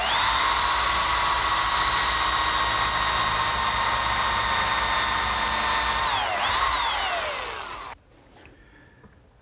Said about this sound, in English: I'm going to drill and counterbore.